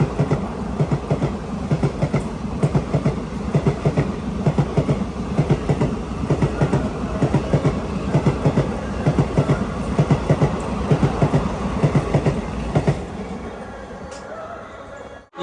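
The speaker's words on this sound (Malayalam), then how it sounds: "ഇത് അടുത്തൊരു ട്രെയിൻ വരുന്നതാണ്. Eranad express, Mangaluru central, Nagercoil junction" The Eranad Express pulls into Sasthamkotta railway station, a loud, steady rumble with regular wheel clacks over the joints that eases off near the end, and a few voices faintly in the background.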